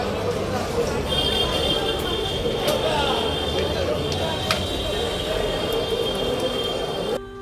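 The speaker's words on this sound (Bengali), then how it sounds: "ট্রেন এসে গেছে, ট্রেনে উঠে বসেছি।" A passenger train at Srirampur station on a foggy morning gives a loud, continuous rumble with high metallic wheel squeals running through it.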